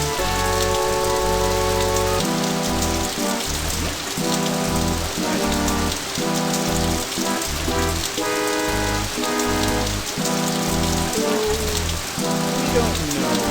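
Driving rain pours down in a heavy, continuous hiss, loud and unbroken throughout, with a pulsing tonal layer beneath it.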